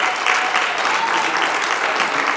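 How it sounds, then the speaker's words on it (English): An outdoor Juneteenth Freedom Walk crowd claps in a dense, even burst of applause that holds steady throughout and is fairly loud and close. "Give him a big round of applause"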